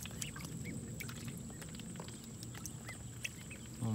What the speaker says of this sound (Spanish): Mírenlos cómo se están bañando.